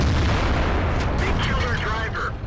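Tank gun fire in the World of Tanks video game, a heavy booming blast with rumbling low end that fills the whole short stretch, loud and close, followed by faint mechanical game sounds.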